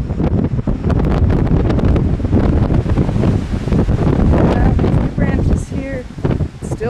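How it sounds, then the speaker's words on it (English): Strong hurricane wind roars steadily into the microphone during Hurricane Earl, a loud continuous buffeting rush with gusts and rustling, close and unbroken throughout. "Still very windy."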